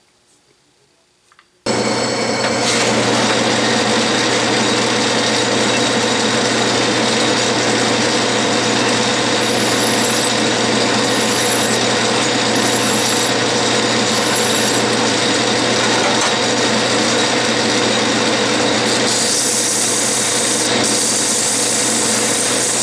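A metal lathe machines a cast iron steam engine part, turning and chamfering a corner, running as a loud steady hum from start to finish after a brief quiet opening, with faint intermittent whine from the cut.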